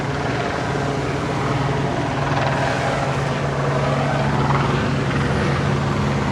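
A steady, continuous rotor drone fills the whole stretch, a broad low rumble that holds constant without any talking.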